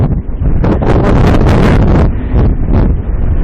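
Strong wind gusts roar and buffet the microphone on an outdoor walk near ice, a loud, continuous rushing with surging peaks throughout.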